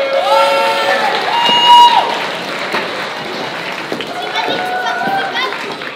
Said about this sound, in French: Jury, on applaudit.